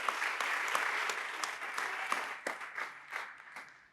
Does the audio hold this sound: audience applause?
yes